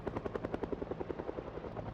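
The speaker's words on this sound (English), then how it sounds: "A helicopter." Helicopter in the video game Project Zomboid, its rotor thudding in a steady fast rhythmic chop with a droning buzz, moderately loud and alone with no speech.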